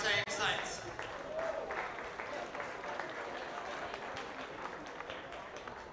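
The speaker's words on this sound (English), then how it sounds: "Can I have a round of applause for both teams?" Applause for both teams after a senior men's Australian football grand final in Townsville, Bulldogs against Tigers, comes as a steady, fairly distant patter of many hands clapping that holds evenly throughout.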